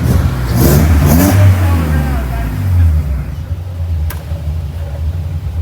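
A Nissan 300ZX engine runs and revs up, climbing in pitch over the first few seconds before settling back to a steady idle, close and fairly loud, with people talking nearby.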